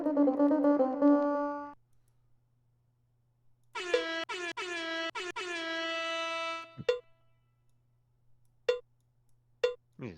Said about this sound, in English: You just love spamming that air horn